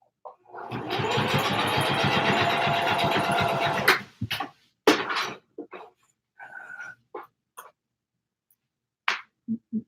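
A sewing machine stitches a channel along ribbon trim for a multi-colored tutu, running in one steady, loud, rapid mechanical burst of about three seconds before stopping, followed by scattered clicks and handling noises.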